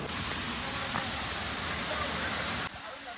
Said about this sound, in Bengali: জাস্ট দেখো, ওপর থেকে জলটা পড়ছে, আর এটাই হচ্ছে ঝিকিরা ওয়াটারফলস